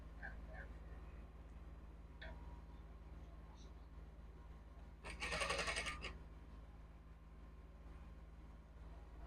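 A sewing machine stitches salwar fabric in one short burst of rapid mechanical whirring, set against a quiet room with faint background noise.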